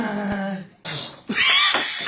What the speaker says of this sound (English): Just sneezed on the pizza.